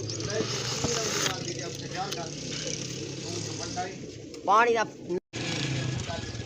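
Pigeons coo softly amid outdoor village background noise and passing traffic, with a louder, rising warble near the end.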